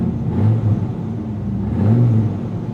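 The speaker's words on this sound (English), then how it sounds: "the way it idles, just like the Viper." Dodge Viper SRT-10 pickup truck's V10 engine idling nearby, a steady low rumble that swells slightly twice.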